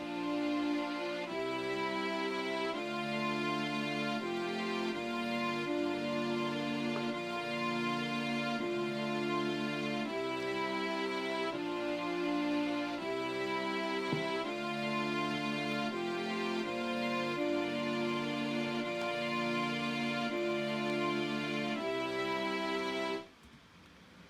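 Synth strings layered over the main EDM electronic pop chord progression, dense sustained chords changing in a regular rhythm every bar or so, loud and steady until an abrupt stop near the end, with no voices.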